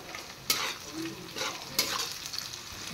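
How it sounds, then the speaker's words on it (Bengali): Onions and green chilies sizzle and fry in a pan for Bengali home cooking, a constant close crackle broken by a few sharp scraping stirs of a spatula. "এবার কাঁচা লঙ্কা সহ একটু ফ্রাই করে তারপর হলুদ দেব"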